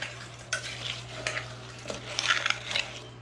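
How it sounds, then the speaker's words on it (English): Melting soap base mixture in a pot is stirred by hand, with scraping and clinking strokes of the utensil coming in irregular bursts over a steady low hum, close up, with no voices. "Just keep stirring, just keep stirring."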